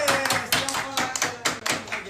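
People at a barbecue party clapping together, close and loud, with irregular bursts of applause rising and falling over a couple of seconds.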